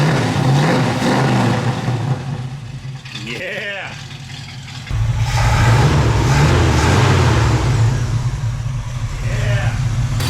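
A 1972 Chevy Nova V8 with long tube headers and dual exhaust revs up in a loud, throaty burst, drops off, then settles into a heavy rumbling idle up close, with a brief voice over it.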